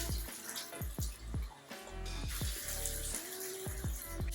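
Tap water running into a sink while face soap is rinsed off, a faint, steady splashing flow broken by small drips and hand movements in the water, with no voices.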